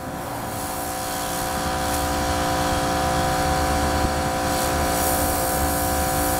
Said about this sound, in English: we're power washing it, taking off the excess debris, grime, dirt